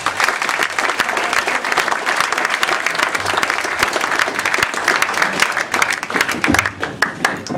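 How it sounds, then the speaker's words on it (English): An audience at a UCMMA pre-event press conference breaks into loud, sustained applause, with dense clapping and a few sharper individual claps standing out across the whole stretch. "give him a round of applause then, guys, please"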